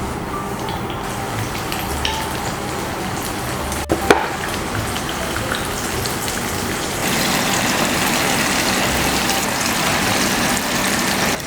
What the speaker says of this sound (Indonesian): Setelah itu kita goreng terongnya ya.